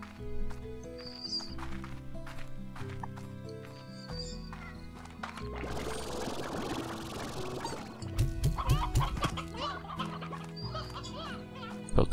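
Hens cluck in the Slime Rancher video game among busy game sounds, with chicken-like clucks, thumps and effects layered over a steady background music bed, moderately loud and overlapping.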